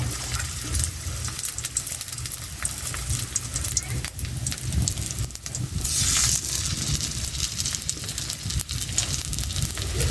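Water lily flower fritters frying in hot oil, a loud dense crackling sizzle that continues throughout with brief louder bursts.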